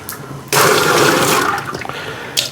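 Hot water pours in a sudden splashing gush onto grain for a single-malt whiskey mash, running loud for about a second and then tapering off, with a brief splash near the end.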